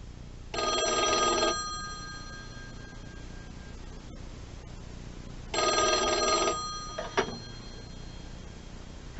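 A vintage rotary telephone bell rings loudly in two long bursts separated by a pause, the second followed by a clatter as the handset is lifted.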